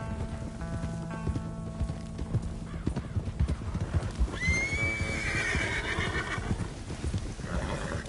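Horses in the video game Red Dead Redemption 2 whinny loudly over a steady patter of clip-clopping hooves, with snorting and rustling close by and no talk.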